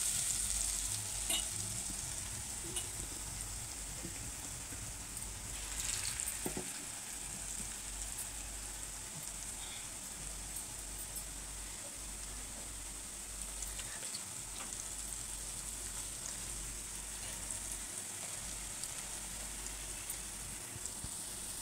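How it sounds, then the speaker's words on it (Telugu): Potato bread patties fry in a pan over a medium flame, giving a continuous close, soft sizzle and crackle with occasional small pops and a scrape or two, no talking. "ఇలా మీడియం ఫ్లేమ్ మీద కాల్చుకోవాలి"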